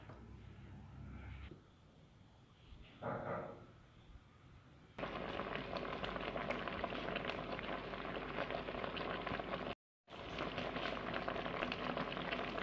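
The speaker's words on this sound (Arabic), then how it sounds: "بعد ما بدا يغلي" Plum and sugar syrup for honeyed prunes boiling steadily in a pot over the heat, a continuous bubbling hiss that grows louder partway through and keeps on without pause.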